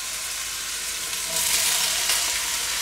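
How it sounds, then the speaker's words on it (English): Garlic, carrots, onions and celery fry in a pot as part of a cheap leek and potato soup, giving a steady broadband sizzle that swells louder about halfway through, with no voices. "you want to leave it to fry for 10 minutes with the lid slightly ajar"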